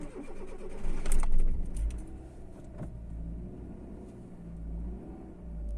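A car engine cranks and catches after sitting overnight near a beach in Caorle, then settles into a steady idle, close and fairly loud with no talking over it.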